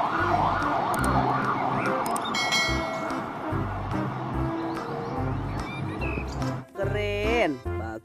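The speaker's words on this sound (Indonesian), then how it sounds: "Yang ini mobil truk damkar." A toy fire truck siren wails in a rising and falling pattern, under and alongside a lively spoken voice, with clicks and a bell-like tone mixed in.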